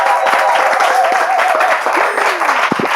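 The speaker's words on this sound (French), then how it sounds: "on peut l'applaudir." Lively applause and clapping from a small group celebrating the winner of a Bible quiz, dense close hand claps with a few voices and cheers mixed in throughout.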